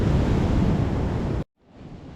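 Surf breaks along a beach at Uluwatu in Bali as a steady, broad wash of water and wind, loud and close, cutting off abruptly before returning more faintly.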